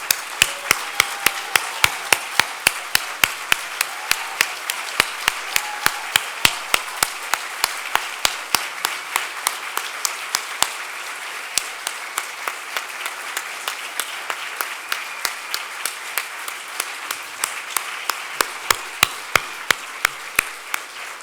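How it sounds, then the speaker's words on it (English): An audience at an awards ceremony claps to welcome returned hostages home, a long, steady run of loud applause with sharp individual claps standing out close by. "I'd like you and your families to stand so we can give you a round of applause and welcome you home"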